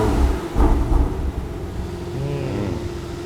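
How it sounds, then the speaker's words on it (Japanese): An Aston Martin V12 Speedster, an open-top car with no roof or windscreen, fires up its V12: a short burst and throaty rev that quickly drops into a low, steady idle rumble. "じゃ あちょっとエンジンかけてみよ"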